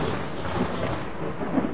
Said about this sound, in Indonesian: Dan sebentar lagi akan turun hujan.